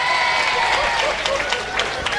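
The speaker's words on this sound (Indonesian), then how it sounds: "Itu namanya tepuk gembira dari Kapolsek Amuntai Utara." Lively audience clapping at a school farewell ceremony, a dense, continuous wash of hand claps with faint voices mixed in, fairly close and loud throughout.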